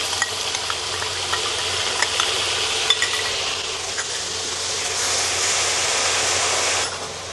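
Ginger-garlic paste hits a hot onion tempering for a spicy Puneri misal on a large gas burner, giving a steady, close sizzle with stirring scrapes and no talking.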